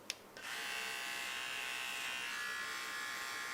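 Xiaomi electric hair trimmer switching on and running with a steady, loud buzz close by, after a brief click at the start, during a home haircut.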